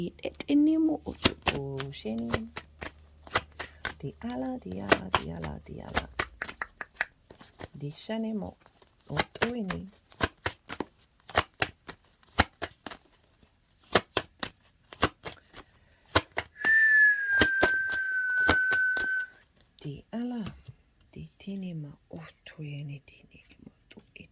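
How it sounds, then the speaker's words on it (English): Oracle cards being shuffled close up in quick riffling bursts, between stretches of soft talking and a sustained tone partway through. "gonna get one more oracle card"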